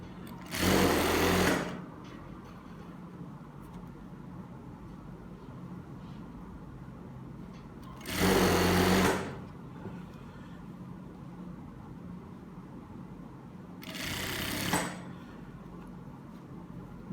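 A sewing machine stitches the elastic waistband of size 42/44 pocketed trousers. It runs in three short, close bursts of stitching separated by several seconds of quiet, with no talking.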